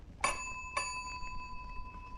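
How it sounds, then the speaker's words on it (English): Doorbell rung by pulling a bell rope at a little front door, giving two clear, faint metallic dings about half a second apart, each ringing out briefly, with no voices. "he stood before the little blue front door and pulled the bell rope."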